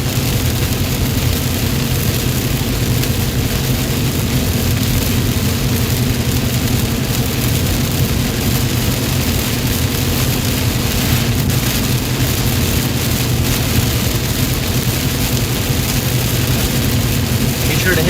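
Heavy rain during a North Texas storm chase near McKinney, a steady dense roar of drops on a vehicle with road rumble underneath, constant and loud throughout.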